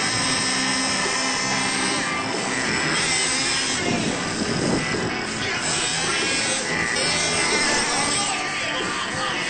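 A Traxxas Revo nitro RC truck engine runs steadily with the body on during break-in, a loud continuous high-pitched buzzing whine at partial throttle with slight surges, close by and without talk.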